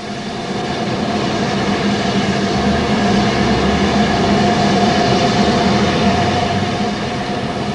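An LNER E4 class steam locomotive, the last survivor of its class and working as Cambridge pilot, runs along with a steady, loud mechanical rumble and a continuous drone of rail noise throughout.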